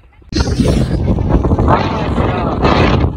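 A motorcycle ridden on a foggy, cold morning, heard as loud rushing wind buffeting the microphone over a steady engine drone close by.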